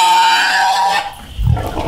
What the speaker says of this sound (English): we got to ride the Aramanthian boar